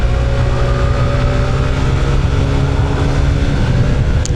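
A Honda ADV 160 scooter engine with an upgraded CVT pulley set and clutch bell drones loudly and continuously up close while riding, a steady rumbling hum with rough mechanical texture throughout, no talking.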